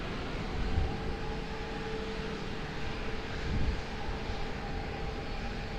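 An airplane at Lisbon Airport gives a distant, steady low engine drone, faint and continuous with slight swells, with no voices over it.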